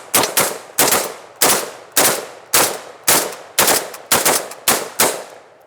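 Shotgun gunfire at a range with head-height targets, about eleven loud, sharp shots in quick succession, some doubled, each with a short ringing decay, no talking.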